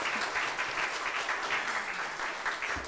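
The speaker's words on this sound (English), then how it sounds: "Can we give her a round of applause?" An audience at the official launch of an ICT education project applauds in a sustained, dense patter of many hands, evenly loud from start to finish, with no voices on top.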